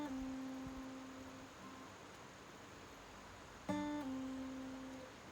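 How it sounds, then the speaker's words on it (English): Quiet acoustic guitar pull-offs played outdoors: a plucked note sustains and steps down in pitch, then a second pluck repeats the pattern, soft against a hissy background. "a pull-off will be, you play a note, and before the note is done, you pull off a finger"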